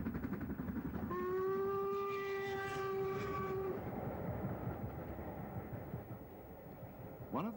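An LMS Black 5 steam locomotive on the West Highland Line from Fort William sounds a long, clear steam whistle over rolling train rumble, then the chuffing and clatter continue alone, fairly distant and moderately quiet.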